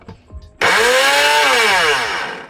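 An RAF 3-in-1 blender motor kicks on after a brief click, then runs loud, steady and close with a high whine that holds until a slight dip near the end.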